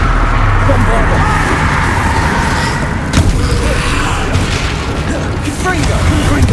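Booming blast of the Bombarda spell in the game Hogwarts Legacy, a loud, dense explosion amid continuous combat noise, with a voice speaking over it.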